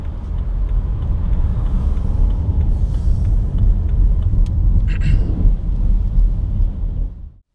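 A 2016 BMW 320d ED Efficient Dynamics diesel accelerates hard through a busy junction, its engine rumble loud and steady throughout from inside the cabin before cutting off abruptly at the end.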